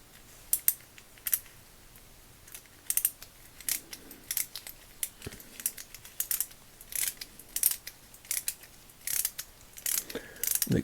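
The cap of a Craftsman (Miller Falls) push drill is screwed on by hand, producing close, irregular clicky metallic ratcheting and small mechanical ticks in short bursts.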